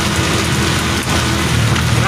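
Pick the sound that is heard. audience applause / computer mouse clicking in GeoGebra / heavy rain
heavy rain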